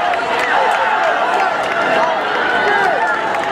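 A crowd at a high school outdoor track race, with Union Catholic competing, roars steadily throughout, a dense continuous wash of many voices with rising chant-like swells.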